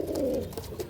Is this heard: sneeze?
no